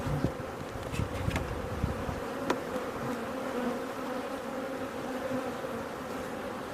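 Honey bees buzz steadily and close throughout an open-hive inspection after a colony split, a dense continuous drone with a few louder passes of individual bees near the microphone.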